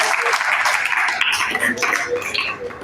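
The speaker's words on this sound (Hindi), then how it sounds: "चलो इनके लिए और जोर से ताली बजाओ।" Children clap loudly in a steady, dense burst of applause at a motivational gathering, the clapping filling the whole moment with no pause.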